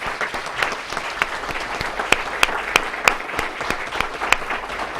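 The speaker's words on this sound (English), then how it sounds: "give them a round of applause" Audience applause at a town hall special meeting, a sustained round of clapping for about five seconds with distinct sharp individual claps standing out over the crowd's steady patter.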